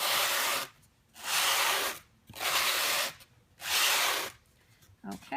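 Glass powder is shaken through a sifting screen in three steady bursts of soft, close hissing rustle separated by brief pauses, ending with a light tap.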